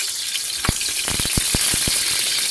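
Garlic and onion fry in hot oil with a steady bright sizzle, broken by a quick run of sharp crackles and pops partway through.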